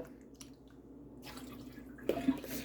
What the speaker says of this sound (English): going to turn it upside down in the basket so it can drain the water out